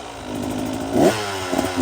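A vehicle engine holding a steady throttle while climbing a hill gives a continuous rough drone, close and fairly loud, with a slight swell midway and no talking.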